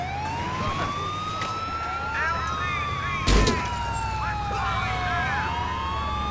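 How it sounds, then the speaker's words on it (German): In Grand Theft Auto IV, an ambulance siren wails, sweeping up and down continuously, fairly close, with engine rumble beneath and a brief burst of noise midway. "Jetzt komm ich mit dem Krankenwagen."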